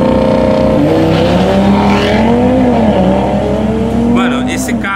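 A five-cylinder car engine, a blue hatchback-style wagon, revs loudly and close by with a rising, wavering tone for several seconds while voices talk over it.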